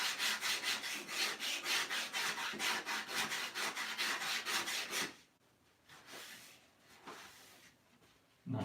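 Hand sanding body filler on a curved radius in quick, steady back-and-forth strokes, a rhythmic rasping scrub that stops partway, followed by a few quieter scattered rubs.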